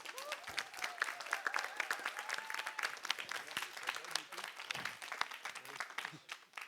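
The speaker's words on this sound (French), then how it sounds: "On les applaudit bien fort, s'il vous plaît." An audience at a live French quiz show applauds loudly and continuously, with dense overlapping claps and a few crowd voices mixed in.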